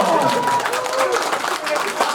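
An audience at a live band show in Białystok claps steadily for about two seconds, a dense, even patter with voices calling out over it.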